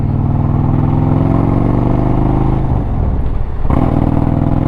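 A motorcycle fitted with a TAB Performance exhaust and Zombie Baffles revs loud and close, a deep, rumbling engine note that holds steady, dips briefly, then swells again.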